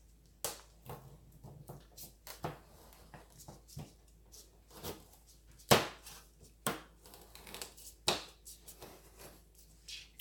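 A knife cutting rainbow carrots on a board for roasting produces a series of irregular sharp chops and taps, some louder than others, close-up with no talk.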